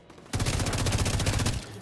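A rapid burst of automatic gunfire in The Division 2, dense and loud, starting abruptly and rattling for over a second before cutting off.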